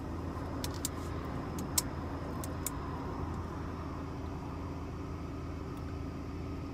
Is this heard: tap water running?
no